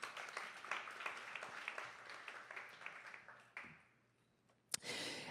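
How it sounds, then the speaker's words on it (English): Audience applause at an AI show-and-tell tech event in San Francisco, a steady crowd clapping that fades out, then a brief loud burst near the end. "So please applaud them for helping organize the event."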